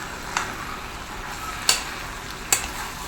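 Dried anchovy fish aviyal, a Kerala dish, is stirred in a pan under a low, steady sizzle, with three sharp taps of the utensil against the pan spaced across the moment.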